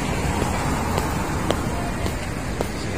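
Steady road traffic noise with cars passing on a street near a large supermarket, a continuous broadband rumble with a few brief louder swells, heard outdoors.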